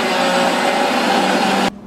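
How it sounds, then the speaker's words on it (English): A blender runs loudly and steadily while blending almond soy milk for homemade dairy-free ice cream, a constant motor whine that cuts off abruptly near the end. "Now it's going to blend for a while."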